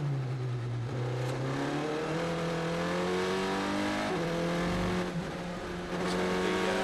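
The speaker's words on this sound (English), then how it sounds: "So the Cassidy car is right ahead of us from this onboard shot, Andrew." Onboard sound of a Formula 3 single-seater racing in the FIA F3 European Championship, its engine screaming loud and steady close to the listener, pitch climbing through gears with brief drops at each upshift.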